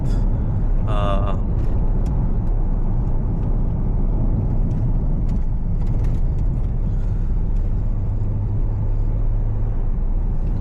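Jaguar XF X250 3.0D saloon driving on back roads, a steady low cabin rumble of engine and tyres heard from inside the car, with a brief high squeak early on.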